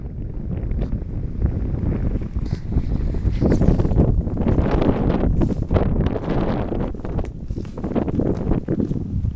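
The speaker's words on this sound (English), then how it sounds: "it's a southern wind right now. That has been nonstop." A strong, nonstop southern wind with occasional gusts roars and buffets close to the microphone, loud and continuous for the whole stretch.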